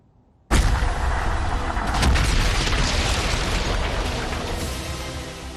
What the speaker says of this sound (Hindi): यह अमेरिका के सबसे अत्याधुनिक एटम बम के ड्रॉप टेस्ट की तस्वीरें अभी आपने देखी।